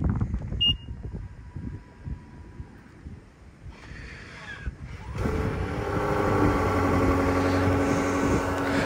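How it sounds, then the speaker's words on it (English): A 2024 BMW X6 M60i SUV engine cranks and catches on a cold start, then settles into a loud, steady rumbling idle with wind noise in the background. "here is the cold start"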